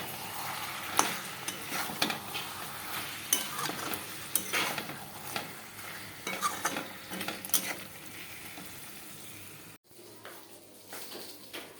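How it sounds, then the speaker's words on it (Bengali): Meat is stirred and fried in a pan for a curry: soft sizzling under repeated scrapes and clinks of a utensil against the pan, fairly quiet and close, with a sharp cut near the end. "মাংসটা ভালো কষানো হয়ে গেছে"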